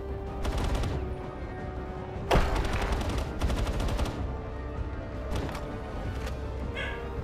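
Gunfire in the Palworld video game, with bursts of rapid shots in clustered volleys over a constant loud game background, plus a sharp single bang partway through.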